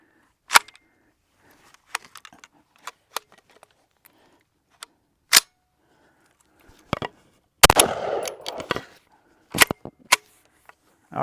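An AR-180 Armalite rifle fitted with a red dot sight and having feeding problems fires sharp, isolated shots at irregular intervals, separated by quiet gaps, with a brief burst of clatter and handling noise midway.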